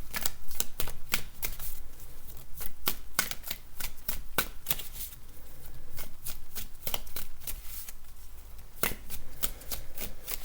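Tarot cards are shuffled up close in a long run of quick, crisp riffles and slaps, repeating in bursts with short pauses between them.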